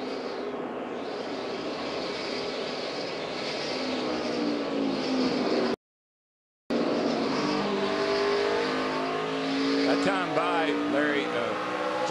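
Onboard sound from Matt Kenseth's NASCAR race car at Phoenix during the 2012 Subway Fresh Fit 500, a loud steady engine drone with rising and falling pitch sweeps, briefly cut out midway, with a commentator talking over it.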